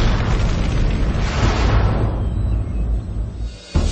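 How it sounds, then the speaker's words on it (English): A deep, roaring explosion effect depicting the 1908 Tunguska blast in Siberia, a dense, rumbling wall of sound that thunders steadily, gradually thins and fades, then ends with a sudden final thump. "An explosion uproots 60 million trees and devastates more than 800 square"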